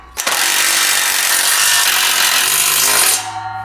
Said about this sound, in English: Go ahead and tighten that down with the 9/16 deep socket.